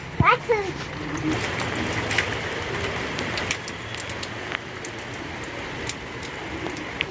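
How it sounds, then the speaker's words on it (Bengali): Steady patter of rain falls on surfaces nearby, with a brief voice at the start and occasional drips and splashes standing out. "এখন বৃষ্টি হচ্ছে"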